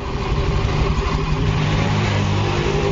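A Yamaha Fino 125 scooter engine runs rough and noisy, a loud continuous mechanical drone with a dense rattling texture, held steady at close range with no voices.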